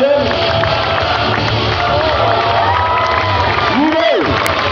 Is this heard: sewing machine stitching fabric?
no